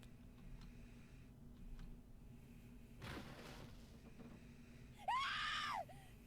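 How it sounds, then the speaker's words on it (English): A single sharp female scream from Lotus in the video game Zero Escape: Nine Hours, Nine Persons, Nine Doors, a short, piercing burst near the end, rising out of a quiet, hollow room tone with an earlier dull thump. "Another scream filled the room."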